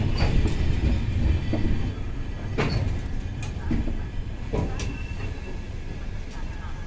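The Nautanwa Durg Express pulls into the platform at Anuppur station with a continuous rumble of rolling wheels, clanks and metallic squeals at a close, steady level.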